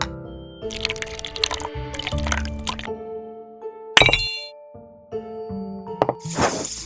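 Yeast and water stirred in a jar make intermittent wet squishing, clinking and scraping bursts, close and fairly loud, alongside tonal background music.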